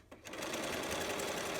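A sewing machine runs a continuous zigzag stitch along the raw edge of fabric for a face mask with a 1/4-inch elastic casing, a steady close whirring hum after a brief start.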